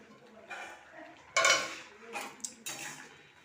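Papaya with salt and turmeric stirred in a pot, then covered: a few close metallic scrapes and clinks of a spoon and lid, quiet and intermittent, with no talk.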